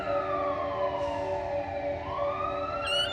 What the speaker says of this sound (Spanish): mientras comía escuchaba las sirenas de las ambulancias a lo lejos